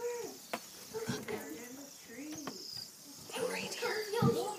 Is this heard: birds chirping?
yes